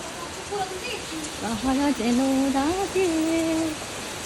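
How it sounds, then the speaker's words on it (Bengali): Steady rain hisses across the whole clip while a voice hums a wavering tune over it, fairly close. "এখন এখানে বৃষ্টি হচ্ছে"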